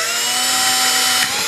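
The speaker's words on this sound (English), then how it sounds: "I'm just gonna drill through on this one" A power drill bores through a cigar box as part of building a guitar, giving a close, steady whining buzz that holds evenly for about a second and a half.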